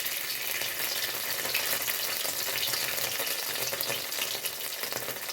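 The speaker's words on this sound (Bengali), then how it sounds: "তেল যা গরম হয়েছে তার মধ্যেই আমি ছেড়ে দিচ্ছি।" Shrimp-stuffed onion stalks fry in hot oil with a loud, steady, crackling sizzle that holds unbroken for several seconds, with no voices.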